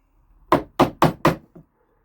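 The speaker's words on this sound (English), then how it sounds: "gently knock a little bit" Chisel tapped gently along a line on pallet wood, four quick even knocks in a row followed by a lighter fifth, close and dry with no talk.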